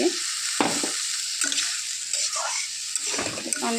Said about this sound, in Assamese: ভাজিব ধুনীয়াকৈ অকণমান পানী দি